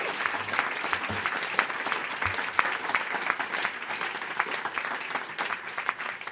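A conference audience applauds panellists after a discussion on disinformation, steady clapping from a fairly large crowd at moderate distance, continuous throughout.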